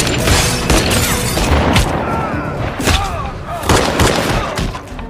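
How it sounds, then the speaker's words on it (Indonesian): A film gunfight from Seized (2020) with loud repeated gunshots and booming impacts cracking out in irregular bursts, close and dense, with brief voices in between. "Nero pun langsung menembak Donovan dan terjadilah adu tembak di situ."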